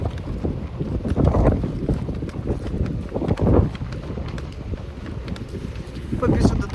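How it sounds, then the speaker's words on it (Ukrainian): Strong wind buffets the microphone in loud, gusty surges with low rumbling bursts that rise and fall throughout. "Боже, який вітер."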